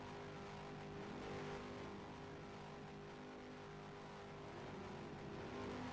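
Several ROX Mod race car engines idle and rev together at Owosso Speedway, a steady low droning hum held at a fairly distant, even level.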